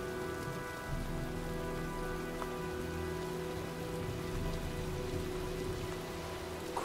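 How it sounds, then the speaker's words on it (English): Rain falling during a storm in the video game Heavy Rain on PS4, a steady soft patter of drops on surfaces with a faint low rumble beneath, continuous and quiet, with no talk. "looks like a storm's coming"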